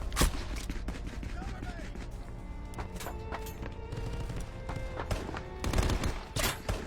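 Gunfire in the VR shooter game Contractors: bursts of rapid shots and sharp impacts recur across the stretch, loud and close, sometimes layered with a steady background music bed.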